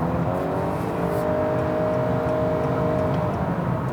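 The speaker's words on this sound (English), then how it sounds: "It has that very almost combination of like a electric motor whirring noise with the buzziness of the engine." A 2018 Honda Accord Hybrid accelerating hard in sport mode, its engine buzz blended with an electric motor whir, heard as a steady, continuous drone from inside the car with no talking.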